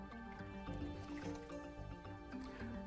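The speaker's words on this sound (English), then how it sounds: "Wring out excess water to avoid getting the bed linen wet" Excess water wrung from a washcloth at a bedside, producing brief wet squishes and trickling drips over a soft room background, all quiet and close.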